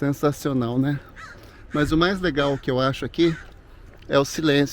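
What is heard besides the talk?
birds singing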